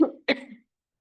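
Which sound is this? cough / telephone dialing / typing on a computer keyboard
cough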